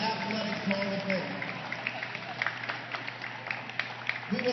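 Audience applause for University of the District of Columbia Athletics Hall of Fame inductees fills an indoor hall, a steady broadband patter of many hands held throughout with no talk over it.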